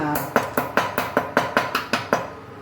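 Cardamom and other spices being crushed for masala chai, about ten evenly spaced sharp pounding knocks of a mortar-like tool, each with a short metallic ring.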